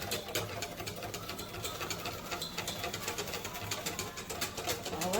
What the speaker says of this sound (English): So you're just going to whisk. Whisk, whisk,